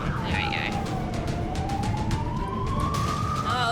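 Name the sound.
ambulance siren switched on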